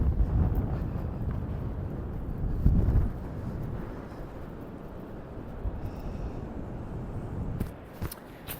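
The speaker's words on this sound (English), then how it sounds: "And it's quite windy." Steady wind roars and buffets the microphone outdoors on a dune at Druridge Bay, Northumberland, in winter, with gusts swelling and easing over several seconds.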